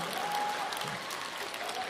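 A theatre audience at a Deyunshe crosstalk comedy show claps steadily in a brief burst of applause that fills the hall.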